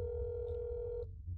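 Telephone line tone in the video game That's not my neighbor, one steady electronic tone held for about a second and then abruptly cut off, leaving a faint hum.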